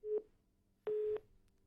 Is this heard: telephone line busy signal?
yes